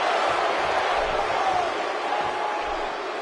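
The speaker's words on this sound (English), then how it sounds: "the crowd is buzzing because Brock Lesnar is present and accounted for" A steady roar from the arena crowd in a WWE video game, with Brock Lesnar present. The broad, even wash of voices holds at one level throughout.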